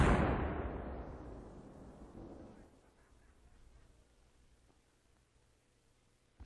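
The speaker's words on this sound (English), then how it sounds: "the powder charge used in the cannon was increased to the limit of safety. Now the fuse is lit." A cannon fired with its powder charge raised to the limit of safety, for an 1812 Overture recording, lets out a single loud, close boom that rolls off and decays slowly over several seconds.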